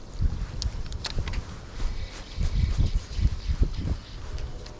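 Strong wind on a lake during bass fishing, heavy gusty buffeting and rumbling against the microphone in uneven bursts, with water splashing faintly under it.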